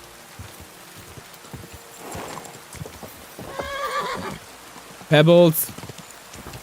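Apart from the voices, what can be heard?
horse galloping and neighing in a video game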